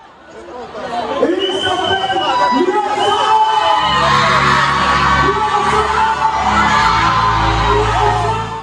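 A huge crowd of more than 6000 spectators at a concert cheers and whoops loudly, the roar swelling and holding steady under overlapping voices and music.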